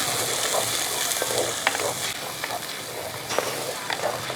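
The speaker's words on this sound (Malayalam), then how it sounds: "ഈ അരപ്പ് ചേർത്തതിന് ശേഷം ഒന്ന് ഇളക്കി കൊടുക്കും" Ground spice paste for sardine curry frying in a pan while being stirred, a close steady sizzle broken by scraping and clinking strokes of the spoon.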